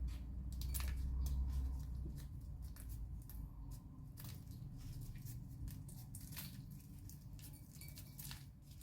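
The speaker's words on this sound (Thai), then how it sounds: "เราจะมาตัดพริกแบบนี้ค่ะ ดิฉันใช้กรรไกรตัดนะคะแบบนี้ค่ะ" Repeated crisp snips of scissors cutting through dried chilies, irregular and close, with faint rustling in between.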